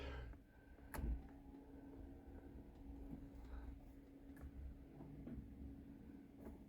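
A sunroof motor on a Mercedes 500SEL runs with a steady low electric hum, joined by a few faint clicks and knocks, inside the car.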